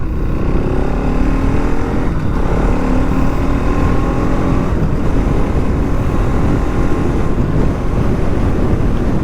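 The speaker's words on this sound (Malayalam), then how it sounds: "കണ്ടില്ലേ, നോർമലായിട്ടാണ് ഷിഫ്റ്റ് ചെയ്തത്." The 2025 Bajaj Pulsar NS 200 motorcycle accelerates through normal gear shifts, its engine note rising in pitch in repeated sweeps under constant wind rush, loud and close throughout.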